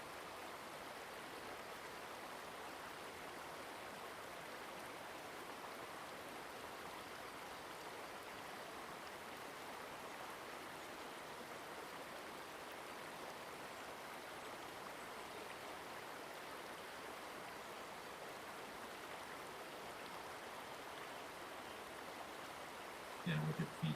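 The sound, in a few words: fresh water flowing against rocks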